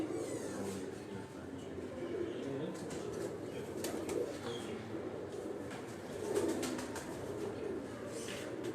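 Breeder pigeons cooing on a rooftop loft, soft low murmuring coos layered over one another at moderate distance, with faint background noise and occasional rustling.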